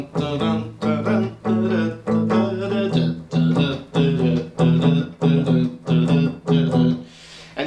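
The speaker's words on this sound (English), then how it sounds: "teach you how to play a basic 12-bar blues" Electric guitar plays a basic 12-bar blues shuffle in a lesson setting, loud and close, with a chugging rhythmic pattern of repeated strummed chord bursts separated by short gaps, alone without talking.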